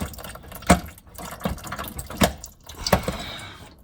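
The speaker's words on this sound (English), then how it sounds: "Drain out the filter. It's got a lot of fluid in it, actually. A lot of gas." Gasoline drips and drains from a removed fuel filter on a VW Mk3 into a drip pan, three or four distinct spaced drops and splashes, close, over quiet shop background.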